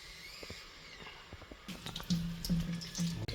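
Water runs from a hose off a 30-liter Ariston water heater into a bucket, a soft steady flow that grows louder and gurgles partway through, close by.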